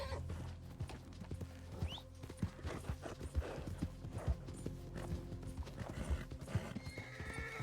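A horse in Red Dead Redemption 2 gallops with steady, loud hoofbeats and neighs once, under dense game sound.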